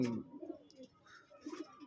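Pigeons in a loft coo briefly up close, a soft burst at the start and another low murmur near the end, with quiet gaps between.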